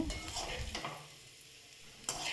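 Bitter gourd stir-fries in a little oil with a crackling sizzle and stirring scrapes. The sizzle fades into quiet before a sharp utensil clatter near the end. No one speaks.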